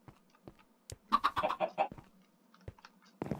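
Chicken clucking in the video game Minecraft, a short burst of several rapid clucks midway, with sparse keyboard clicks and taps around it, fairly quiet.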